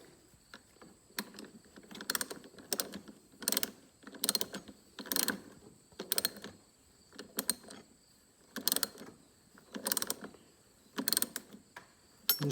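A T27 Torx screw being tightened on a Polaris Ranger tailgate latch, with repeated ratcheting bursts in an even rhythm and short pauses between, close and fairly loud, no talk.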